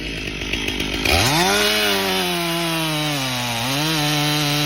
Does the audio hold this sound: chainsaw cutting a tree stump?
yes